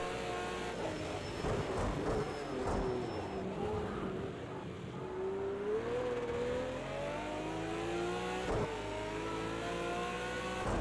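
A race car engine in Project CARS 2 revs and accelerates continuously, its whining pitch climbing and dipping through gear changes, loud and close with no talking, while a Ferrari is chased toward a corner.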